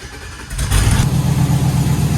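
An LS-swapped car engine starts with a short burst, then settles into a loud, steady, close rumbling idle.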